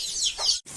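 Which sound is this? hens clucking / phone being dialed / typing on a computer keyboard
hens clucking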